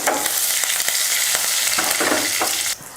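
Mustard seeds, urad dal and curry leaves tempering in hot oil on a stove for a coconut chutney, giving a loud continuous sizzle with sharp crackles and pops throughout, the sound dropping abruptly near the end.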